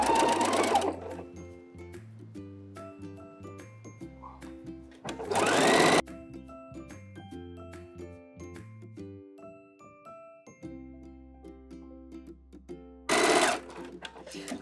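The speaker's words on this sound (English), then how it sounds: "So let's sew all the way around the waist and check it out." A sewing machine runs zigzag stitching around the waistband of homemade thong underwear, short whirring bursts with pauses between them, joined by a musical background and two louder buzzing runs.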